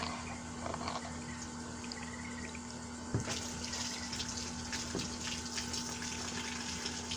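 Water rinses a boat surface in Florida after a stain is scrubbed off, a steady close splashing wash with a brief louder splash near the middle, no voices over it.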